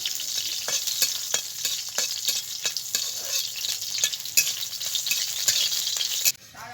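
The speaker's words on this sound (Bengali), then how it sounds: "এখন আমি কটা শুকনো লঙ্কা ভেজে তুলে নেব।" Dried red chillies frying in hot oil in a pan, giving a bright continuous sizzle broken by sharp scraping clicks as they are stirred. The sizzle cuts off abruptly near the end.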